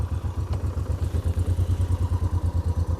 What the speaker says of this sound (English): is just trickle along like this in first gear